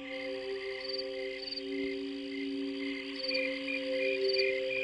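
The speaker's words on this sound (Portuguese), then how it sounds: "Os sons dos grilos são um pouco mais musicais do que os sons dos gafanhotos." Garden crickets trill in steady, musical pulses, several overlapping tones repeating close by over a constant insect drone, with no voices.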